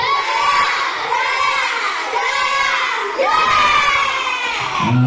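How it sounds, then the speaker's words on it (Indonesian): A fourth-grade class of children cheers and shouts together in a classroom, excited voices rising and falling in sweeping bursts throughout. "tepuk tangan sekali lagi untuk Mas Niza"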